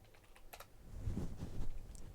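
Fingers patter across a computer keyboard in a short, steady run of close keystrokes, growing slightly busier toward the end, with no voices.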